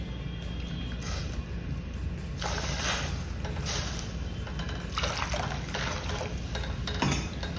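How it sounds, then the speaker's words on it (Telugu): Water is poured into a cooking pot, four cupfuls for beetroot rava kesari, heard as a soft, close splashing stream in several bursts over a low background hum. "ఈ కప్పులో 4 కప్పులు వాటర్ వేస్తున్నాను అనమాట"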